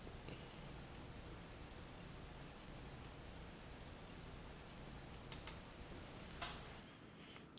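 Recorded crickets chirp in a steady, faint continuous trill, looped as the closing texture of a modular synth piece, with no voices.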